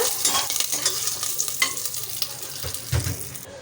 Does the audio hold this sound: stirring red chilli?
yes